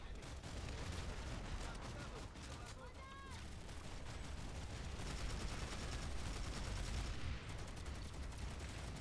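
Dense gunfire from a battle in the video game Planetside 2, with repeated sharp shots and bursts rattling almost continuously over a heavy rumble, while a voice talks over the fight.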